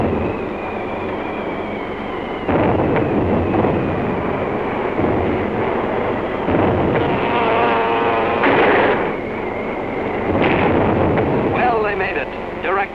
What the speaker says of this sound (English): Direct hits with those 600-pounders of TNT blowing up right in Hirohito's face.